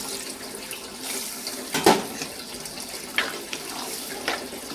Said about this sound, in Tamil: உங்களுக்கு எந்த அளவுக்கு கிரேவி வேணுமோ அந்த அளவுக்கு தண்ணி ஊற்றிக்கோங்க